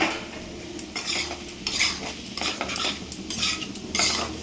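Small shrimp being stirred into onion, garlic, chili and ginger paste in a pan, with repeated close scraping strokes of the utensil against metal over a soft sizzle and no talk.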